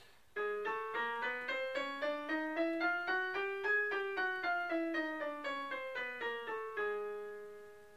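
Piano scale played slowly with both hands together, each paired note struck evenly in a steady stepwise run up and back down, clear and close with ringing decay after the last note.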